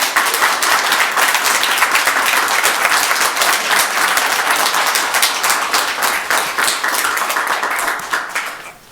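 Sustained, dense applause from an audience at a city council meeting, loud and close, with many hands clapping steadily for several seconds before fading at the end.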